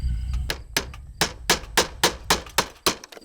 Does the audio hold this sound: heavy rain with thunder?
no